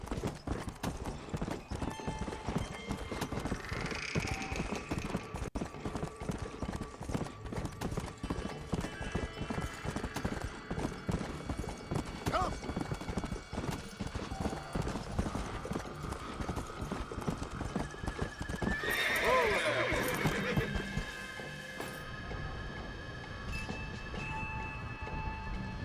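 Steady clip-clopping of horse hooves rings out in Red Dead Redemption, a fast continuous rhythm heard up close for the whole stretch, with a brief whinny and some rattling noise around the middle.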